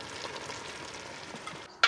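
Chicken in cider vinegar simmering in a camper-van pan, a soft steady sizzle and bubble running continuously at moderate level, ending in a brief sharp louder clatter.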